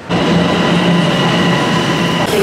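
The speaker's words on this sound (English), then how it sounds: "We're on the subway now." Toronto subway train in motion heard from inside the car, a loud continuous rumble of wheels on rail with a steady hum throughout, no voices.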